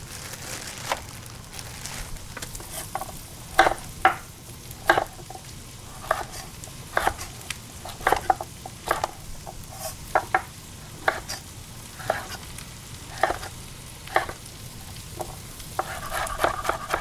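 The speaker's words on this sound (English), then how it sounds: "turn the heat up. Dump some of these mushrooms in here." Mushrooms and carrots stir-fried in a hot pan, with steady sizzling under repeated sharp scrapes and clacks of stirring at an irregular rhythm, close and fairly loud throughout.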